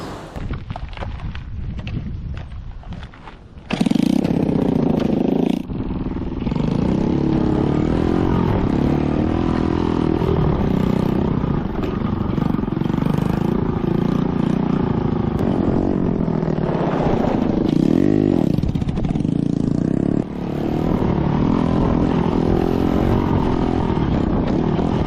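A late-1970s Honda Gorilla Z50 minibike being ridden, its small single-cylinder engine droning steadily and loudly up close after starting up, with rises and dips in revs and wind noise over roughly twenty seconds.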